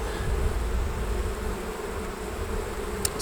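Bees buzzing steadily around a small nuc beehive, a close, continuous hum.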